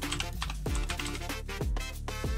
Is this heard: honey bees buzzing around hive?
no